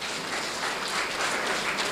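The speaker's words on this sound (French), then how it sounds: "Ça s'applaudit." Brief burst of dense applause from a crowd at a political party rally in Benin, loud and continuous with no talk.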